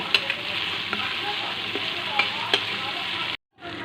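Fish for a mustard fish curry fries in a pan over a medium gas flame, giving a loud, steady sizzle dotted with small crackles and pops before the sound cuts off abruptly near the end.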